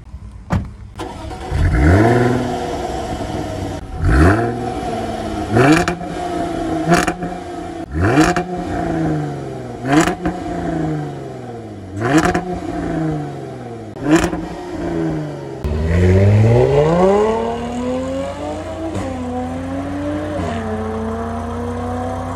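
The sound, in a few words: Jaguar F-Type supercharged 3-litre V6 engine revving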